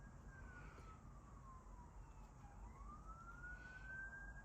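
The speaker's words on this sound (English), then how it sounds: "If you hear sirens, I actually live by a ambulance dispatch" A distant ambulance siren from a nearby ambulance dispatch rises and falls slowly in one long sweep, faint beneath a steady low background hum.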